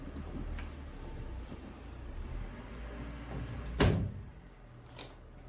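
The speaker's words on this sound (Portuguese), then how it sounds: "Deixa eu fechar a porta aqui" A door inside a home swings shut with a single sharp knock near the end, close and clear against quiet background hum and faint traffic noise, with a softer tap shortly after.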